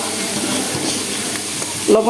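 Spices frying in a pan for a red chicken curry, giving a loud, continuous hiss and sizzle that runs unbroken, with a brief burst of other sound near the end.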